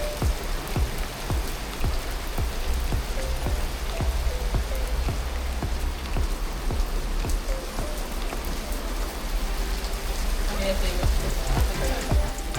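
Steady rain falls outside a hotel in Corsica, a dense continuous patter with scattered sharper drops close by, with no talk over it.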